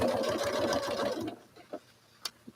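A sewing machine running steadily as fabric is fed under the needle, loud and close for over a second before it stops, followed by a few small clicks and handling sounds.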